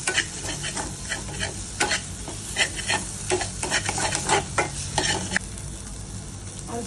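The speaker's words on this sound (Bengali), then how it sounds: "ভালো করে একটু নাড়াতে হবে, মশলার জন্য ভালো করে কষে যায়।" Okra curry with spices stir-fried in a pan, with a close, continuous sizzle and a brisk run of spoon scrapes and taps against the pan, no talking.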